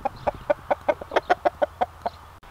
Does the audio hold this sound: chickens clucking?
yes